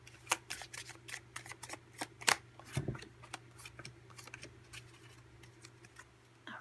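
Tarot cards are shuffled and drawn, with soft, irregular riffling taps and flicks that come close and fairly quiet, stronger in the first half and then thinning out, with no talking.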